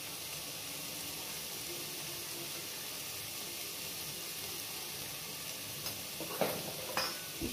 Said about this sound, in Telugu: ఇప్పుడు దీని కూడా ఒకసారి కలుపుకుందాం